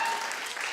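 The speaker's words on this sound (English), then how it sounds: "Clap if you're married." Studio audience at a daytime talk show claps in a quick, dense burst, a bright wash of many hands that stays loud and steady with no talk over it.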